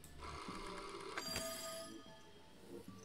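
A telephone rings in a video game, a bright trilling bell-like tone with a sharp burst in the middle, fairly close over a busy background of game sound.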